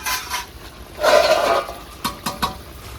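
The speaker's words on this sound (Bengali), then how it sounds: "এখানে আমি 1 বাটি জল দেবো।" A bowl of water is poured into chicken curry in a cooking pot, a brief splashing gush in the middle, followed by a few sharp clinks of a utensil against the pot.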